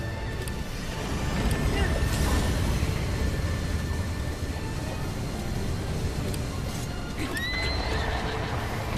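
A horse in the video game Zelda Breath of the Wild whinnies loudly, with clip-clop hooves and steady outdoor wind ambience, while people talk over the game.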